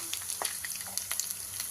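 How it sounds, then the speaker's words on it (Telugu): Mixed tempering seeds sizzle and crackle in hot oil for a bitter gourd dish, with quick popping bursts scattered over a steady frying hiss, close and fairly quiet. "అన్ని మిక్స్డ్ పోపు గింజలు వేసుకుంటున్నా"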